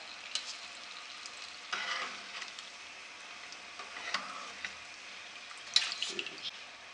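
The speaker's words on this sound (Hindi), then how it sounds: "बाकी भी मैं फ्राई कर लेती हूँ" Potato samosas frying in hot oil make a soft, steady sizzle with occasional stirring scrapes and small pops, fairly quiet and close.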